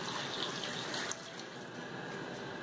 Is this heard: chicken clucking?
no